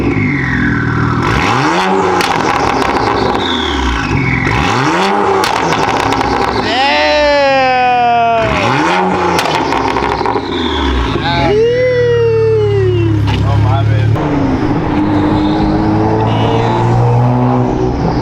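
BMW 335i fitted with a VRSF exhaust revved repeatedly while parked, several loud close blips that rise and fall with turbo whoosh between them, with people talking nearby.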